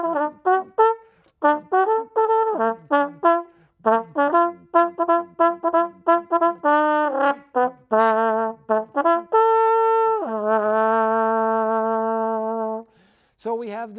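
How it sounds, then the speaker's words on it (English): A miniature French horn plays a lively tune of short, tongued brassy notes in a bouncy rhythm, ending on a long sustained tone, close and clear with no talk. "So we have the miniature French horn."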